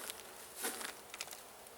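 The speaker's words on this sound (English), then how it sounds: "Wait, there's a bunch of bees on the bottom." Honeybees buzzing around an opened hive during winter feeding, a faint, steady hum with brief louder passes as individual bees fly close.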